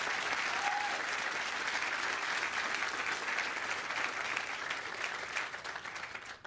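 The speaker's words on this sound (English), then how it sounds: "Can we get a round of applause for that?" Sustained applause from an audience at an opening celebration for a learning lab in Philadelphia, a dense steady clatter of clapping hands that holds for several seconds before tapering slightly at the end.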